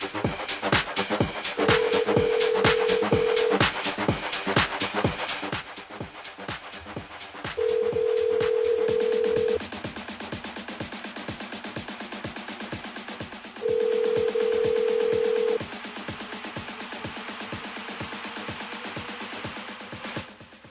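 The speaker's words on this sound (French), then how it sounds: "Elle appelle Audrey du côté de la Petite Île" A phone line rings in steady repeated tones, three long buzzy rings separated by pauses, over a busy background of music-like clatter.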